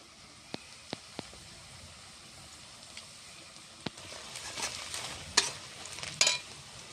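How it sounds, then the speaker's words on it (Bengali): Chopped onion and turmeric powder fry in a pan in a Bengali village kitchen: a few sharp taps and stirs at first, then a steady, moderately loud sizzle that builds with crackly bursts, with no talking. "দিয়ে দিচ্ছি কেটে রাখা পেঁয়াজ এবার দিয়ে দিচ্ছি হলুদ গুঁড়ো"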